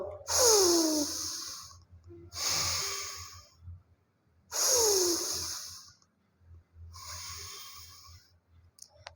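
Deep, slow breaths in the padmasana yoga pose, four long audible inhales and exhales with nasal rushes, close and clear, separated by short quiet pauses.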